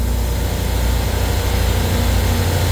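A supermarket refrigeration compressor runs at full speed, a constant loud low hum and rumble with a steady mechanical drone that holds unchanged throughout, with no voices.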